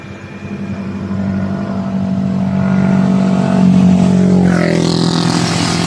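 Motorcycles ride past on a road near a cemetery at night, a steady engine drone swelling louder, with a brief rising whine as another bike approaches near the end.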